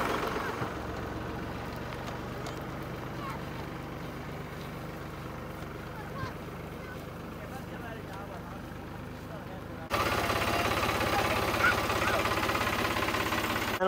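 A tractor engine runs steadily at a low, rumbling idle during hay bale bucking, continuous and moderately distant, with a louder stretch toward the end.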